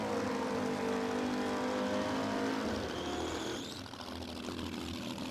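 A supercharged Holden red-motor six-cylinder altered drag car at a dragstrip makes a loud, distant, sustained engine roar that fades and thins in pitch as it pulls away down the track.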